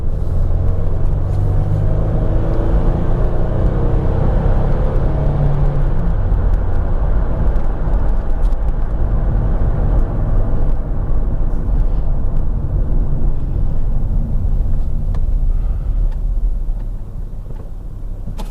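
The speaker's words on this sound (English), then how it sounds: "as I'm driving along now like this, it's just in two-wheel drive, which is front-wheel drive." Steady engine and road drone inside a 2000 Toyota Estima Aeras L V6 AWD minivan running in front-wheel drive, a continuous low rumble with tire noise that holds even and slightly eases near the end, with no talking.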